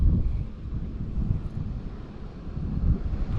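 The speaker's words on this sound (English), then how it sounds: "fish cast back into the wind" Steady wind buffets the microphone while crappie fishing from the shore or a boat on open water, a continuous low rumble with gusting swells and no voices.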